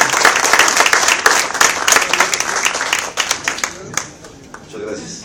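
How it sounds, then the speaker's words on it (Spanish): An audience at a real estate talk applauds two guests, an engineer and an architect: dense, sustained clapping from a sizeable crowd with voices mixed in, tapering off near the end. "podamos dar un fuerte aplauso a el ingeniero Garza, por favor, ingeniero Garza Treviño, y también al arquitecto Silvano Treviño"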